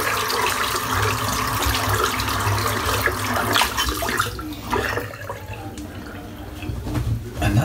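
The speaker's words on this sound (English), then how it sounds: "Rinse the soap out." Water runs from a tap while soap is rinsed out of a horse hair shaving brush, a loud continuous splashing that thins out and quiets partway through, with no talking.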